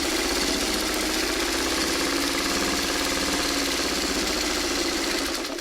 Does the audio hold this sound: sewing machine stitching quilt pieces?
yes